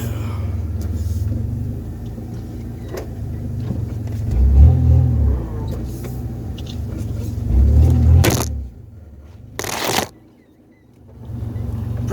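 A 1992 Chevy S10 pickup with a 2.8 engine and five-speed manual on a test drive, its engine rumbling low with two rising surges of acceleration, then easing off near the end amid cabin noise.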